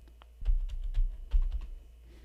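An email password is typed on a computer keyboard: a short burst of about a dozen close, crisp key taps in quick uneven rhythm, with no talk.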